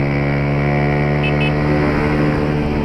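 A motorcycle fitted with a Pro Tork Competition exhaust idles close by, a loud, steady, throaty drone with even harmonic tone holding across the whole moment without pauses.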